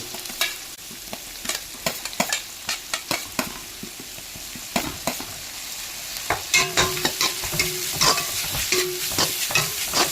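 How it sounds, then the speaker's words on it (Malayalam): Ginger, green chilli and garlic sautéing in a pan, a steady close sizzle under repeated sharp scraping and tapping strokes of a spoon against the pan, getting busier toward the end. "ഇഞ്ചിയും പച്ചമുളകും വെളുത്തുള്ളിയൊക്കെ ഒന്ന് മൂക്കട്ടെ"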